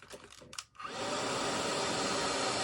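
After a few soft handling noises, a hair dryer switches on and runs with a steady, loud whoosh while it warms a Shiseido eyelash curler.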